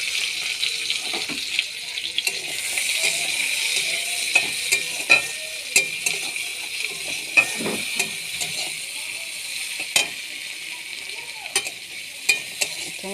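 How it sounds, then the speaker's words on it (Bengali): Black cumin seeds stir-fry in oil in a karahi, a soft continuous sizzle broken by repeated clinks and scrapes of a spatula against the pan. "একটু কালো জিরেটা একটু কড়াতে নেড়ে নেব, হালকা করে নেড়ে নেব। এটা তেলে ভেজে নেব"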